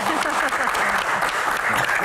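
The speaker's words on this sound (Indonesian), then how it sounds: "tepuk tangan" An audience at a Q&A talk show event claps together in a short burst, with a voice speaking over the applause.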